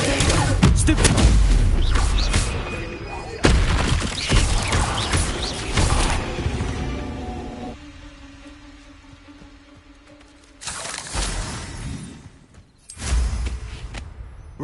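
Spell blasts and explosions in Hogwarts Legacy, heard as loud booming impacts and crackling bursts in several separate waves with quieter gaps and a steady tonal hum between them, near and heavy.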